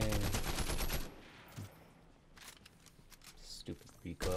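Gunfire in a shooter game, with a loud burst of rapid shots at the start, then quieter scattered single shots and clicks, under a speaking voice.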